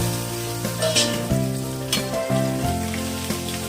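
Green chili and two crushed garlic cloves sizzle in hot tempering oil for a cabbage kootu, a steady close crackle with a few brief bursts of spatter and no talking.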